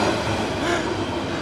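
Passenger train on the Minangkabau Express line crossing another train, a steady close rumble of wheels and carriages running throughout without breaks.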